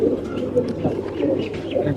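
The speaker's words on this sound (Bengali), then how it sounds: "এটা একটা মাদি কবুতর মতিয়ালে।" A female Motiwale pigeon imported from Kuwait coos softly at close range in low, rolling murmurs, with someone talking over it.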